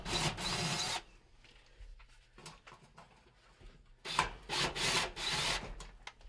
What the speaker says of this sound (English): remove the 2 Phillips style screws that are securing the igniter in place